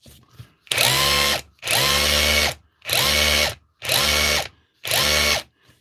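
A Hilti or Dewalt rotary hammer drill being tested runs in five loud, evenly spaced bursts of rapid hammering, each about a second long with short pauses between.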